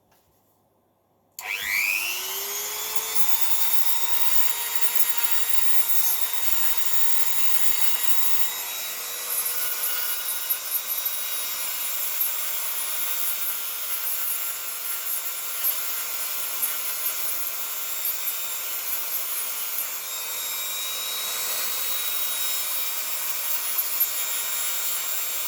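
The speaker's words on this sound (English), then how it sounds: "I just have a little Dremel, and with a little stone bit on it," A small Dremel fitted with a stone grinding bit works the end of a salvaged 18650 lithium battery, a steady high whine with a thin rasping scrape that runs continuously and close after it spins up.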